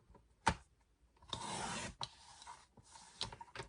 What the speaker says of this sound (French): je vais partir depuis ma droite jusqu'à ma gauche pour les découper en diagonale